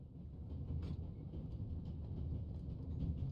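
Train rolling along rails in the Raven Remastered video game, a steady low rumble with faint clickety-clack, continuous and fairly loud throughout with no voices.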